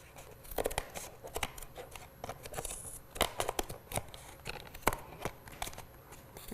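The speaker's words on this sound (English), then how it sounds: "Now we're gonna cut over here on this end." Quick snipping and rustling as scissors cut through paper, a run of sharp close clicks and crinkles at an irregular pace, with no voices.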